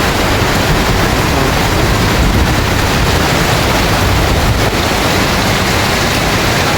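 A hailstorm pours down in a dense, loud, unbroken hiss, with a rough roaring texture that fills the whole clip, heard from inside a house.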